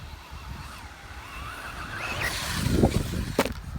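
A Traxxas Slash RC car on an ATV track revs its electric motor with a rising whine that climbs in pitch, ending in a rough burst of tire and dirt noise.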